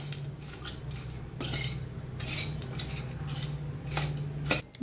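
Cabbage kosambir salad with crushed roasted peanuts and a poured tempering being tossed in a bowl, giving repeated clinks and scrapes of a utensil against the dish over a steady low hum, close and moderately quiet.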